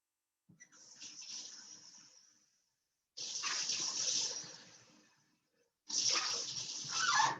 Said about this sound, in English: we're going to start with 1 cup of warm water into the mixing bowl